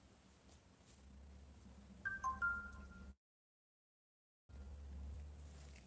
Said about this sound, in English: Is that this phone which is beeping away?